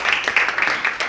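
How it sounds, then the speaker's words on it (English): Short burst of audience applause after a panelist's introduction at an Earth Day panel, steady clapping mixed with a faint voice. "So, round of applause, please"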